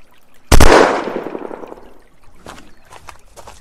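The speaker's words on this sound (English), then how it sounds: "I think this is a machine gun, to be honest," Gunfire from a machine gun in the survival video game Unturned: one loud, close blast with a long decaying tail, followed by a few fainter, scattered shots.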